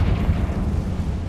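A Confringo spell blast in the Hogwarts Legacy video game bursts as a short, loud, rumbling explosion with a dense low roar lasting about a second.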